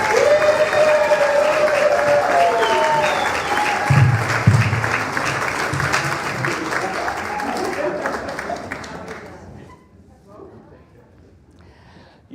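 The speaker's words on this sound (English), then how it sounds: "Let's all give our new members a great round of applause." Unitarian Universalist congregation in Sarasota applauding new members, sustained hall clapping with a few voices and cheers mixed in, gradually thinning out until it gives way to near quiet at the end.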